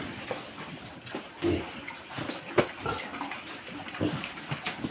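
Tap water running while a pig pen is washed, a steady wet rush with splashes and brief knocks throughout, fairly close and moderately loud.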